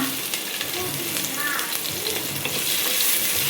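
Chopped onion for veg pulao frying in hot oil in a pan, giving a dense, continuous sizzle with soft crackles, close and fairly loud throughout.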